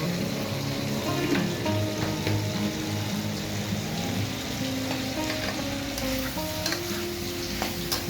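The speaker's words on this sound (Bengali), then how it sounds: "আর এই দেখো আমি আলু ভেন্ডিটা এখন একটু কষে নিচ্ছি" Potato and okra sauté in a pan with a steady close sizzle, stirred continuously so that soft scrapes and taps of the utensil come through the frying hiss.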